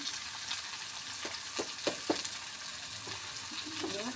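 A pan of mixed vegetable curry sizzles steadily while a spoon stirs it, with a few soft scraping strokes against the pan and the frying hiss carrying throughout.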